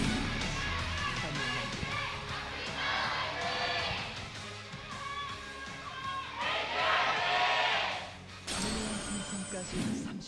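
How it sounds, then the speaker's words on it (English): Crowd at a League of Legends LCK playoff match between Afreeca Freecs and KT Rolster, a dense arena murmur rising and swelling in waves beneath continuous commentary, with louder surges toward the end. "Got a nice murmur from the crowd when that was locked in"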